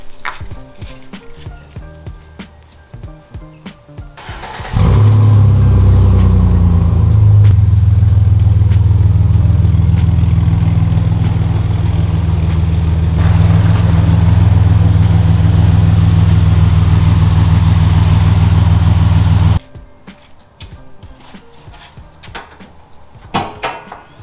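A Jeep Grand Cherokee WJ engine pulls into a garage: a loud, steady idle-and-creep rumble runs for about fifteen seconds, preceded and followed by quieter clanks and shuffling.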